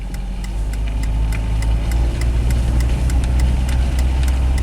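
A Dodge Neon stuck in limp-home mode with a no-shift fault drives along in first gear, its engine holding a steady, loud, low drone with a faint rhythmic ticking on top, and no talking.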